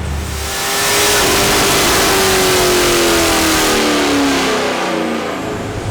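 A 2016 Chevrolet SS V8 fitted with an aftermarket cam revs loudly up close, the engine climbing in pitch over several seconds with no talking.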